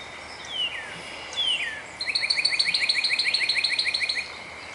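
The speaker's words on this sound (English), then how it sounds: "You hear all the various bird sounds in the background." Sparrows and other birds chirp outdoors near a feeder on a quiet morning, a few scattered high calls followed by a rapid, steady run of repeated bright tweets, moderately close, with no talking.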